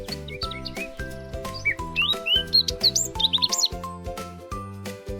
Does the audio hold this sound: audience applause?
no